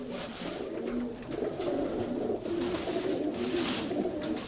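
Pigeons coo in soft, repeated low throaty calls, several birds overlapping at close range with a steady rustling outdoor background.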